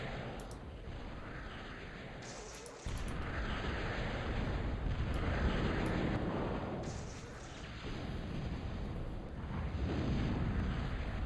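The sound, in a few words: destroyers firing depth charges and cannons in Total Annihilation video game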